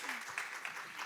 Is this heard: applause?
yes